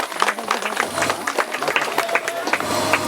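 Audience applause at a Teej festival program, a dense, steady patter of many hands clapping at close range that holds for about three seconds, with faint voices mixed in.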